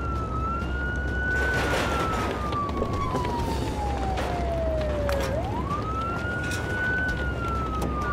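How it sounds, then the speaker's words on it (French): Fire engine sirens wail in a Playmobil animation, one clear siren tone sliding down slowly and then rising again over a dense, noisy rumble of traffic. "regardez, il y a plein de voitures de pompiers"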